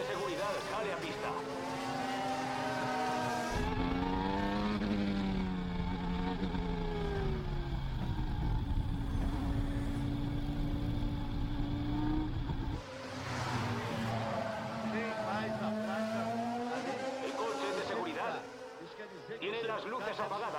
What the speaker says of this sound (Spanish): El coche de seguridad sale a pista.